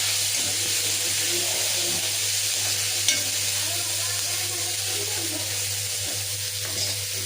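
Tomatoes with half a spoon of salt fry in a pan for a lentil amti, a loud continuous sizzle broken by occasional scrapes of a stirring spoon, no talking.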